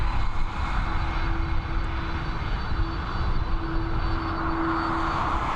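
An Aer Lingus Airbus A330 in 2019 livery departs Dublin Airport for Chicago, giving a dense, steady engine roar with a thin sustained tone rising through it, near and loud, without speech.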